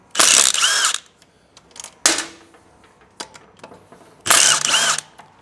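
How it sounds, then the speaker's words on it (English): Allen screws come out of the exhaust on a 2024 Triumph Bonneville Bobber in three sharp mechanical bursts of tool whirring and ratcheting, each about a second long, separated by quiet gaps with small clicks and taps. "So now we want to remove these two screws here."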